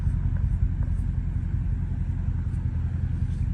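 A catless Scat Pack car's exhaust gives a steady, deep, loud rumble while driving late at night, continuous and close with no talking.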